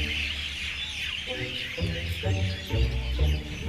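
Early-morning birdsong fills a city park at about half past five, with busy overlapping chirps and tweets. Deeper rumbling and what sounds like a low voice come in during the second half.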